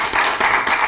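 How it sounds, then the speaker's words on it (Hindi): Audience applause greeting two guests, Aman Bhati and Mohit Bhati, at an interview show: dense, steady clapping throughout, with slight swells in intensity, filling the room without any voices. "जोरदार तालियों के साथ स्वागत कीजिए अमन भाटी का और मोहित भाटी का"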